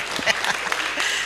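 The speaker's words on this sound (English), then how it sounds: "Now let us clap for Father." Audience at a church conference claps for a priest: brief, moderately loud scattered applause from a crowd, without a clear rhythm.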